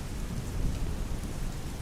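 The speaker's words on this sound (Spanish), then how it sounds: "truenos que hacían crujir el cielo" Heavy rain pours steadily during a thunderstorm at sea in a narrated horror story, with a deep, continuous low thunder rumble beneath the dense hiss of rainfall; no voice is heard.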